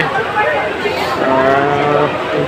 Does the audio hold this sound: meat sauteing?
no